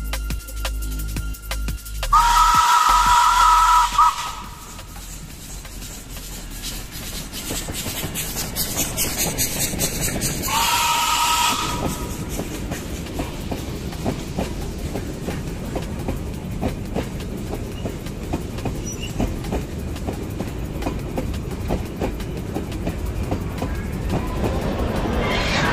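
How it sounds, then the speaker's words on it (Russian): A steam locomotive running in reverse at a railway celebration rolls past with a rhythmic clickety-clack of wheels and a steady rumble, a loud hissing burst early on, then a continuous rolling clatter. "Паровоз едет задом."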